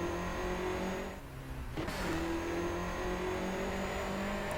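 A Volkswagen Golf GTI drives in the video game Garry's Mod, its engine humming steadily with a brief dip in revs partway through, a continuous moderate drone with no talking.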